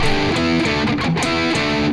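A distorted electric guitar plays a short, choppy rhythm lick from a guitar solo, loud and close, with quick repeated strums and muted stops and no voice.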